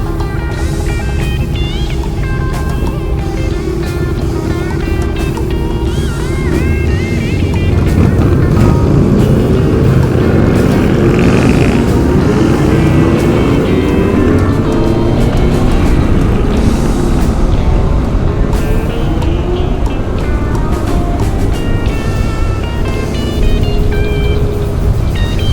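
A group of motorcycles rumbles past in a Cape Town group ride, a loud, continuous engine drone that swells as bikes pass close, with no one talking.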